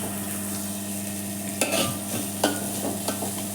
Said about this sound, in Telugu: ఇదిగో కొద్దిగా ఆయిల్లో ఇలా ఫ్రై చేసుకుంటే